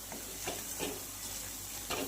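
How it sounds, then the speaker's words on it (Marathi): Spice masala for egg curry sizzles and fries in oil, soft crackling with several stirring scrapes spaced through the short stretch, near and moderately loud with no talking. "आपल्याला हे फ्राय करून घ्यायचं आहे"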